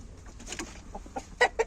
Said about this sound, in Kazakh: Мінекей тауықтарымыз.